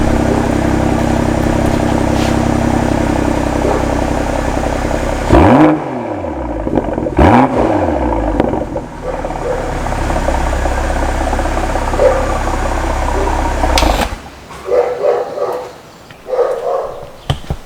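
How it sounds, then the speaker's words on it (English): BMW X3 M40i G01 revving hard with its exhaust valves held open, a loud sustained engine roar with two sharp rising-and-falling revs, then quieter burbles and pops as it settles. "you can hear the valves opening, the little kst, and then how the sound changes"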